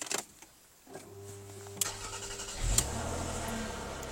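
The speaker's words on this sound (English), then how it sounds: "Just start it up for you." A car with push-button start, a bulb failure warning and a faulty sunroof: quiet at first, then the starter cranks, the engine catches with a low rumble and settles into a steady close idle.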